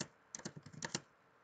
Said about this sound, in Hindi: लैपटॉप का कीबोर्ड जो है उसकी वजह से भी स्पीड कम हो जाती है।